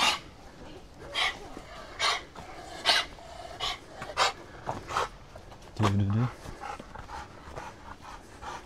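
A dog pants in quick repeated bursts while moving about outdoors, close and fairly loud, with a short low bark or whine partway through.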